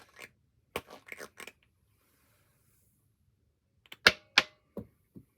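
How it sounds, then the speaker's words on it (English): Plastic dice rattle and clatter inside a tabletop dice roller for a board game, a burst of sharp clicks, a pause, then another series of close taps and knocks. "As long as it doesn't fall off the table, it'll roll the dice for you."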